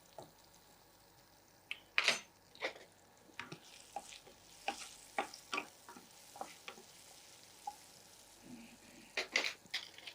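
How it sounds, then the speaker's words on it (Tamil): Capsicum and potato frying in oil in a pan, a faint sizzle beneath a string of stirring scrapes and spoon knocks against the pan, spaced irregularly, with no speech. "இந்த கேப்சிகம் ஹாஃப் ஃப்ரை ஆகிருக்குங்க, பாதி ஃப்ரையாக இருக்குது."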